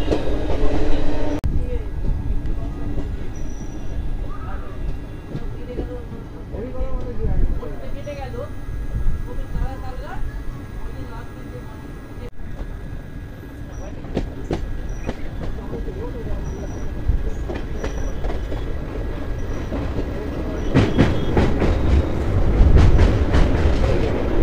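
The 18044 Bagha Jatin Express rolls steadily between Uluberia and Santragachi Junction, a continuous rumbling rail drone with intermittent clicks and wheel clatter building louder near the end, with voices talking over it.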